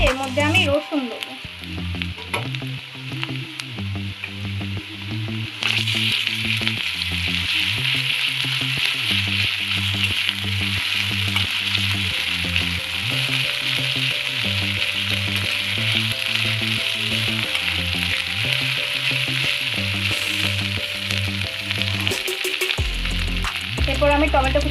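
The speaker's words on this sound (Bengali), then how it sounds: "পেঁয়াজটা ভাজা ভাজা হয়ে গেলে এর মধ্যে আমি রসুন দেবো।" Chopped onion sizzles and fries steadily in a hot pan for a Bengali-style chana masala, and a spatula stirs and scrapes in a repeating rhythm. The frying is loud and close, with no talking.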